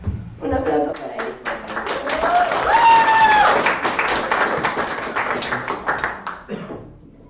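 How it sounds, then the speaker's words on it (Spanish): An audience at a panel talk on technological autonomy applauds a speaker, with steady close clapping that builds and then fades over several seconds while voices carry on underneath. "Un aplauso para él."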